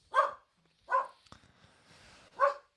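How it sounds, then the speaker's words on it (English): Three separate sharp barks from a nearby dog, spaced with short gaps and a faint thump between them, with no speech. "Oh, there's the dog."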